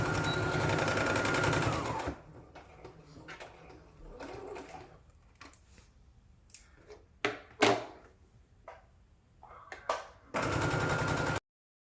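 A sewing machine stitches a facing onto a top in two loud, steady whirring runs at the start and end, separated by quieter handling noises, taps and faint bird coos in the background.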